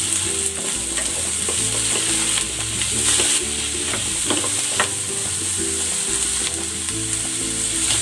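Potatoes frying with onions in a pan for a chicken and potato dish, a steady close sizzle with occasional stirring clinks and scrapes throughout, no voices.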